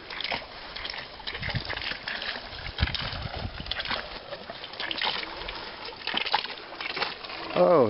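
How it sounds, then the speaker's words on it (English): Water from a solar air-lift well pump splashes and sloshes into a backyard swimming pool in irregular bursts, moderately close, while a person talks over it. "Oh, I hear water."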